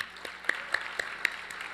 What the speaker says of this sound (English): let's just give Gwen another big round of applause